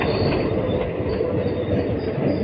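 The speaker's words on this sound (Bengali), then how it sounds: "আমাদের ট্রেন এখন প্রবেশ করছে" An express train rolls into New Jalpaiguri station, a close, continuous rumble of wheels on rails with faint squealing and clatter.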